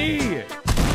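Gunfire from the video game Fortnite, a burst of shots crackling loudly through the clip with a brief dip near the middle, mixed with music and voices.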